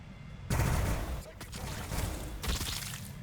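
A burst of heavy gunfire with cracking impacts erupts in a Warhammer 40000 Battlesector multiplayer match between Adepta Sororitas and Blood Angels, loud and sustained, with a second volley near the end and a voice faintly underneath.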